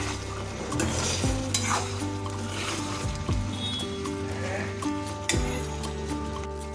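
Potatoes and pointed gourd sauté in spice gravy in a kadai, with a steady sizzle under repeated scraping stirs of a spatula against the pan, close and continuous.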